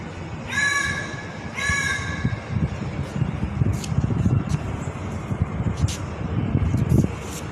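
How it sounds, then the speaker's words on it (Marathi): A crow in Ayodhya gives two drawn-out, harmonic calls close together near the start, over a steady bed of crowd and traffic noise that continues after the calls stop. "इथं एक कावळा सुद्धा राम राम असं म्हणू लागलाय"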